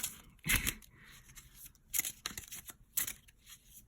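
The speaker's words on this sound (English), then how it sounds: "Let's shuffle this deck now." Tarot cards are shuffled in a few quick riffling bursts, spaced about a second apart, with soft handling sounds in between and no talking.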